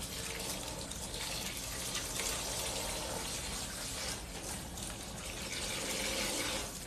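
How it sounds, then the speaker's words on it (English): Hot water running steadily from a tap while hair dye is rinsed out, a constant broad splashing hiss at moderate level throughout, with no speech. "Again, I'm using hot water to rinse all this color."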